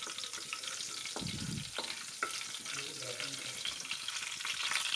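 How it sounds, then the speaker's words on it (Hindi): Cumin seeds and cloves fry in hot oil in a pan for chole masala, giving a steady broadband sizzle with a few brief utensil knocks and a clink, close and continuous, with no voices. "इसमें मैंने जीरा और जो लौंग था वो डाल दिया। अभी इसे 1 से 2 मिनट तक भून लें।"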